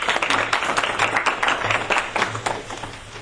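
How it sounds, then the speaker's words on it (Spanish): An audience at an academic talk claps to welcome a speaker, giving a sustained burst of dense, fairly loud applause for about three seconds, with a low steady hum beneath it. "la recibimos con un fuerte aplauso"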